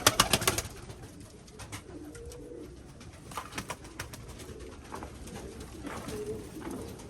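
Pigeons coo softly and repeatedly in a quiet space, low burbling calls rising and falling, with a brief burst of fluttering or rustling at the start.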